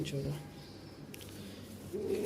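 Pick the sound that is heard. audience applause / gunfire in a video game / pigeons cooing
pigeons cooing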